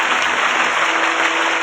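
A large crowd at a Gujarati dayro folk and comedy gathering bursts into loud, sustained applause, the clapping dense and even for the whole short stretch with no voices on top.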